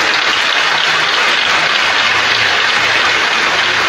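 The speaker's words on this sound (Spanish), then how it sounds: "Aplausos a quienes han preparado este domingo para que sea un día festivo" A church congregation applauds during a Sunday Mass, a dense, even wash of clapping that sounds almost like rain, loud and continuous throughout with no speech over it.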